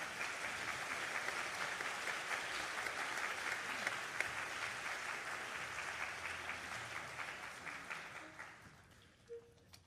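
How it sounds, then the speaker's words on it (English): Sustained applause from an audience at a Pacific joint military band concert, a dense clapping roar that gradually thins and fades toward the end, with a few isolated claps. "can we get another round of applause for our fantastic 25th Infantry Division singers?"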